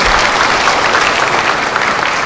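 Loud, close audience applause at a 2024 citizens' dialogue with the Nonsan mayor: a dense, continuous wash of many hands clapping at once, steady throughout.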